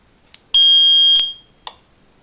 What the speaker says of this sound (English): Okay, I'm switching the alarm on.